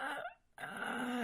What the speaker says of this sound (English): you can hear my dogs having a special moment in the background